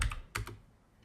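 A few quick keystrokes on a computer keyboard, a cluster of close, crisp clicks that trail off into quiet, with no speech.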